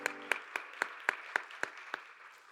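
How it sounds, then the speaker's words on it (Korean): Applause at a Sunday young adults' church worship service, heard as a sparse run of about eight distinct claps at an even, moderate pace, fairly soft and close. "박수로 서로를 격려하겠습니다"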